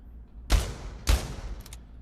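Two loud, close blasts from a double-barrel shotgun in the VR game Pavlov, about half a second apart, each with a short decaying tail, followed by faint mechanical clicks.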